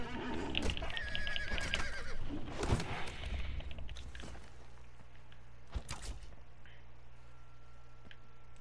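A horse in the video game Conan Exiles gives a neighing whinny early on, mixed with game noise, clicks and faint footsteps, then the scene settles into quieter ambience.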